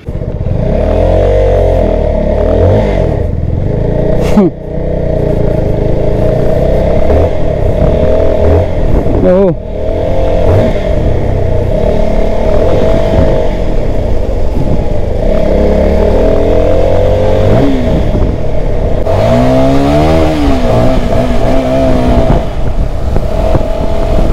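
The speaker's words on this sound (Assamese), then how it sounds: "বঢ়িয়া আহে চাউণ্ডটো বহুত ধুনীয়া একদম লাউড আছে 300cc মানে এখন ধুনীয়া বাইক" A Keeway K300 N 300cc motorcycle at a Benelli showroom in Guwahati sends out a loud, steady exhaust drone from close by, with several rising and falling revs over roughly twenty-four seconds.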